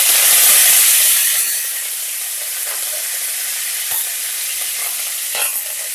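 Onions and cumin seeds fry in hot oil, producing a loud, steady sizzling hiss that is strongest at first and then settles into a continuous crackle with occasional small pops.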